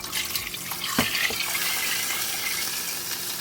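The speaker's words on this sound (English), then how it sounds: "we're going to put in our 5 cups of water" Water is poured from a cup into a soup pot, a close splashing gush with a sharp onset followed by a steady, softer trickling pour; no one speaks.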